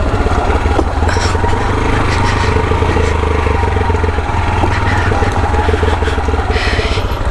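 Motorcycle engine climbing a steep hill on a warm, clear day near Minca, Colombia, a steady loud low drone with rattling and vibration throughout, close and continuous.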